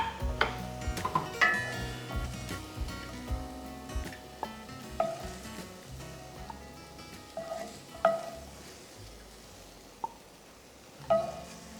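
Eggs frying in a cast iron pan, with a steady sizzle under repeated stirring and scraping and occasional sharp clinks of a utensil against the metal.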